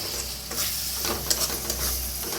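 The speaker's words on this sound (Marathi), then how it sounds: "टमाटर बरोबर कोथिंबीर बी भाजून घ्यायची, म्हणजे चवीला खूप छान लागते." Tomatoes and coriander roast in a hot pan after the tempering, with a steady sizzle and repeated stirring scrapes; no one speaks.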